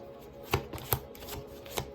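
Cards riffle and snap together in a few quick bursts, close and fairly quiet, with no talking.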